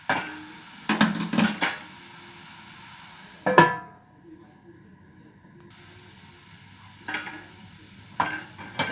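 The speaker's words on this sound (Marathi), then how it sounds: "मी आता चांगलं थोडंसं भाजून घेतलं आहे गाजर अजून थोडा वेळ आपण याला भाजूयात" Grated carrots for gajar halwa roast in a pan, with a soft sizzle under a few sharp scrapes and clinks of a spoon stirring against the metal, separated by quieter stretches; a voice talks briefly.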